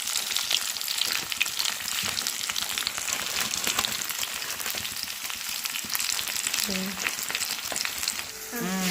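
Close, busy frying of bay leaves in a pan for pulao made from leftover rice, crackling and sizzling steadily with stirring scrapes mixed in and no talking.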